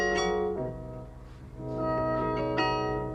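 A sampled instrument plays in Logic Pro's Q-Sampler as the low-pass filter cutoff is swept, so the sustained harmonic tone dulls in the middle and then brightens again. It is loud and steady, with no talking.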